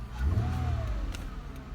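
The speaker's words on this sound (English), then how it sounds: "you listen to the engine in this thing." A 2010 Lexus ES 350 with about 86,800 miles runs with a smooth, steady low engine hum and a faint rising whine, heard close from inside and alone.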